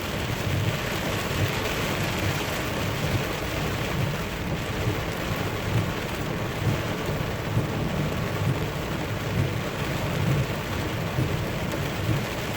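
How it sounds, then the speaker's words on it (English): Steady rain falls throughout with low rumbling thunder rolling underneath, a continuous storm wash with no voices. "Hear the thunder, but no lightning yet."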